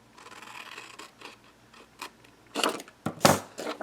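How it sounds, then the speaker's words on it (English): Scissors snip a slit in a paper backpack project made with a tote die set, several quiet crisp cuts and rustles building to two louder sharp snips near the end, close up and without talk. "And then you're going to cut your slit."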